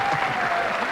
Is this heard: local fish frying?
no